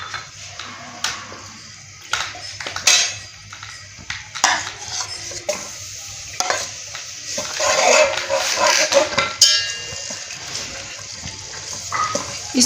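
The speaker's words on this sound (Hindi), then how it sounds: "अब इसमें मैं डालूँगी गार्लिक।" Garlic stirred into hot oil in a cooking pan for a cauliflower dish, with a spoon scraping and clinking against the pan in irregular bursts, close and fairly loud, with light sizzling between strokes.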